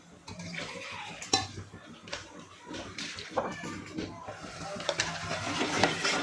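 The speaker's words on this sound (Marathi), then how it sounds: "आता जे आपण हे मिक्स करून घेतलेलं मिश्रण आहे ना ते आपल्याला त्याच्यामध्ये टाकायचं आहे." Kadhi mixture poured into a pan of sautéed spices for kadhi-rice, with soft liquid splashing, stirring and clinking of utensils, close and moderately loud with a steady background hum; no speech.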